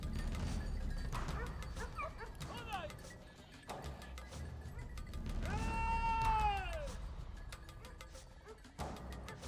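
Hunting dogs bark and yelp while driving wild boar across a Spanish hillside hunt, a scattered run of near and distant barks, one drawn-out howling whine, over a rough outdoor background with a voice talking.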